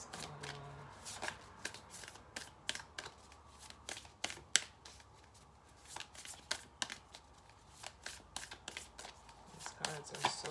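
Large tarot cards being shuffled by hand, a steady run of quick riffling slaps and flutters up close, fairly faint but clear.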